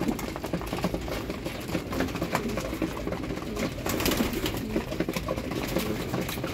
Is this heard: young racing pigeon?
yes